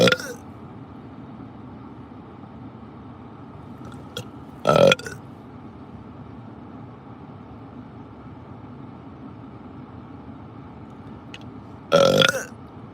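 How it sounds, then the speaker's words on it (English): Two short, loud burps several seconds apart break over a steady low background hum, close to the listener. "I'm burping"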